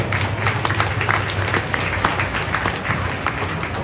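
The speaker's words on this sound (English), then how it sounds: "Let's put our hands together and give these kids a big round of applause." Audience applause at a county fair junior beef show, steady dense clapping from a crowd filling the whole stretch, fairly loud and continuous with no voices on top.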